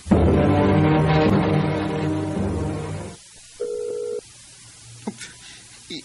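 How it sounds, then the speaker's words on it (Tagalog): A telephone gives steady dial and ring tones in a drama, with a long continuous tone first, then a shorter, quieter beep pattern after a pause. "Ako siya tawgan."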